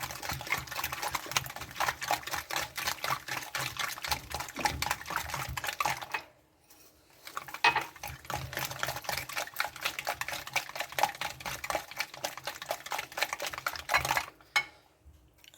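A hand whisk beats fruit pancake batter in a bowl with fast, continuous scraping clicks that pause briefly midway before resuming at a brisk rhythm.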